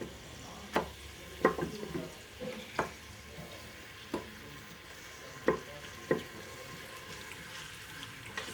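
Chopped onions going into hot desi ghee in a pan for village-style moong dal, giving a steady low sizzle with sharp clinks of a spoon stirring at irregular intervals, close and fairly quiet, with no talking.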